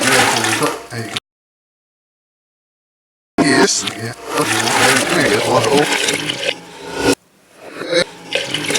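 Liquid pours into a pot of chicken soup with a loud, close rushing splash that cuts off abruptly, resumes, then fades, with brief talk in the background.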